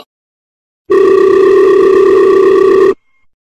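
A steady telephone dial tone sounds loud and unbroken for about two seconds, then cuts off into silence.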